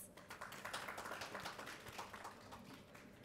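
Faint applause from a healthcare and life sciences conference audience honoring a presenting sponsor, a soft, steady patter of many hands clapping at a distance for about three seconds with no talking.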